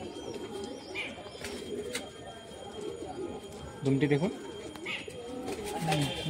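Pigeons coo in a loft with Madrasi and Andhra breeds, a few short low coos rising briefly around the middle and near the end beneath steady talking and faint background chirps.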